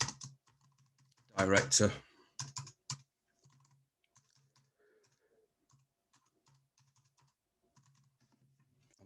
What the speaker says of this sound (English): I'm not very good at typing